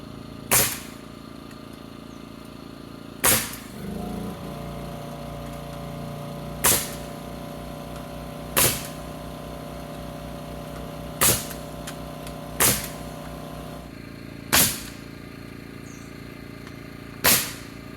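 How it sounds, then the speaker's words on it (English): A nail gun fastens barn roof framing in sharp, loud single shots spaced a few seconds apart, eight in all, over a low steady background hum. "We're already here with the nail gun."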